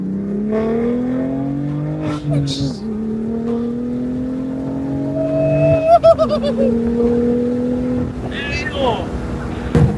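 A BMW F82 M4 drives at moderate speed, its exhaust droning with rising and falling engine tones and a few sharper throttle blips, while people talk over it inside the car.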